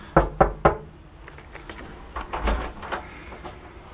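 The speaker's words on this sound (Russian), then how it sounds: "сейчас постучимся в дверь" Three sharp knocks on a house door as a guest arrives, followed by quieter thuds and faint shuffling nearby.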